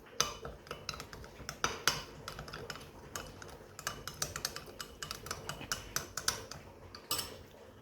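Repeated light clinks and scrapes of a utensil stirring salad in a bowl, irregular and close, with no voices.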